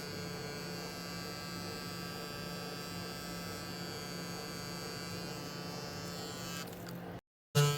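Electric hair clippers buzz steadily while cutting a high fade, a constant close hum that stops abruptly near the end, followed by a brief thump.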